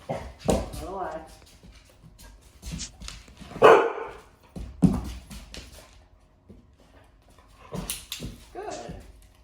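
A dog barks and yips in short bursts while being trained, mixed with a person's frequent talk and handling noise nearby.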